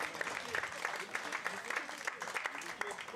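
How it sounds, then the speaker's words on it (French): An audience claps for the pétanque finalists at a festival final, with steady, dense applause close by while voices talk over it. "on peut les applaudir."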